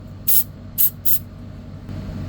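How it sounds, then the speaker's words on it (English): Three short hissing bursts of aerosol spray, two close together after the first, over a low steady background hum. "we're going to quick little spray in here"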